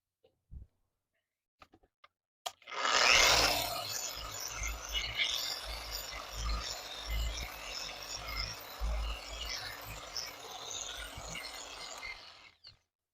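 A machine polisher with a blue buffing pad and Adams compound runs steadily on a golf cart hood, a continuous whirring drone that starts abruptly after a few clicks and stops cleanly.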